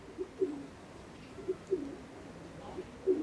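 Pigeons coo softly in a loft, including Charlequin birds, with a few brief murmuring calls spaced apart over faint background hiss.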